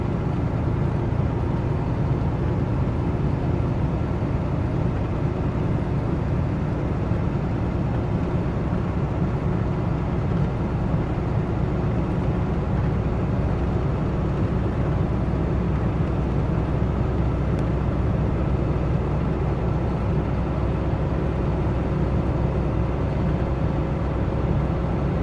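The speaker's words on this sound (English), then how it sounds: "Sometimes we like to enjoy the view and listen to the engine." Continuous low engine rumble of a vehicle while driving, heard steadily from inside for the whole stretch, with a broad road and cabin hum and no talking.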